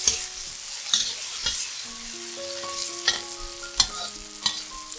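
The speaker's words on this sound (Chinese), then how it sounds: "放入蟹味菇炒一炒， 再放入小辣椒炒一炒" Shimeji mushrooms and small chili peppers stir-fried in a pan for a spicy tomato pasta sauce: steady crackling sizzle with periodic spatula knocks roughly every second, close by, while faint steady musical tones play underneath.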